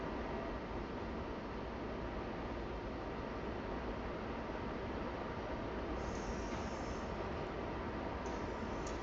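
Steady broadband rumble and hiss of a video-game train pulling into its final stop, constant and loud throughout with a brief higher tone near the end.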